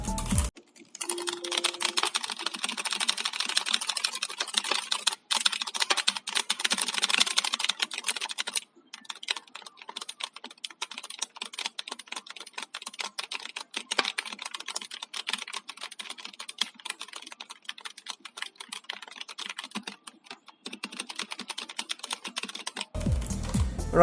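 Steady, fast typing on a Keychron K8 mechanical keyboard with Gateron Brown switches, a dense run of crisp clacks, close and fairly loud, pausing briefly now and then, no voices.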